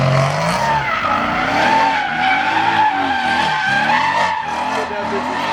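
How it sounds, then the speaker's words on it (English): A car holding a brake stand at a car meet, its tires squealing and skidding continuously for several seconds while the engine roars loudly nearby; people's voices are mixed in. "Need to do a brake stand."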